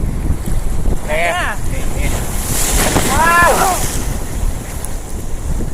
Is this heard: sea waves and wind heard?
yes